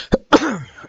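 A single sharp cough from a woman, followed by a longer raspy throat-clearing sound, close and fairly loud with no talk over it.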